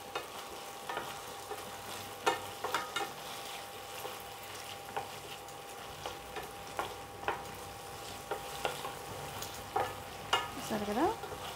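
Soya chunk manchurian frying in a pan with green chilli sauce, a steady low sizzle broken by repeated sharp stirring scrapes and clinks, close up with no talking.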